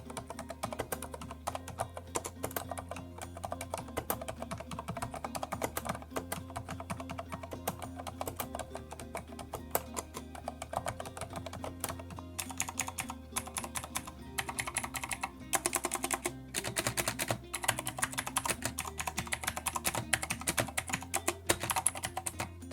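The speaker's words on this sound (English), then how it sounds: "here's a pitiful excuse for a typing test comparing the two." Rapid, steady typing on Corsair STRAFE and K70 RGB MK.2 mechanical gaming keyboards, with dense clicky keystrokes close up and no talk throughout.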